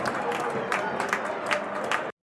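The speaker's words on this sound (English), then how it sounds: "It's a good applause all around there." A large stadium crowd at a Millwall v Royal Antwerp pre-season football match applauds and cheers in a broad, steady roar with scattered sharper claps, heard from a distance, ending abruptly.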